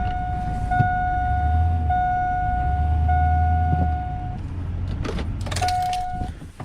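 A truck slowly backs a trailer toward a garage, a steady engine drone with a long high-pitched beeping tone running through it and a few brief clanks, moderately loud and close with no talk.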